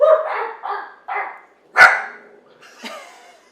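Dogs bark several times close by in short, loud bursts with brief gaps between them, with a softer yip toward the end, in a home kitchen.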